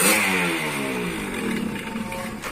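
A Suzuki Satria two-stroke motorcycle engine revs close by with a buzzy, rattling note that climbs and wavers briefly.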